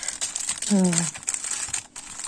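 A plastic sachet from a TEMU scrapbooking storage order crinkles as it is worked open, a steady close rustle with a brief voiced sound partway through.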